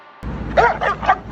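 Dogs barking and yelping in a fight between a pitbull and a Dogo Argentino, with a few sharp, close barks in quick succession over steady background noise.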